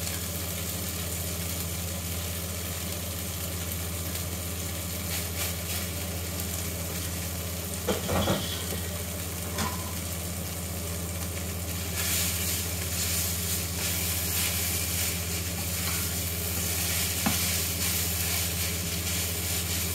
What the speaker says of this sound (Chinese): 炒一炒佢先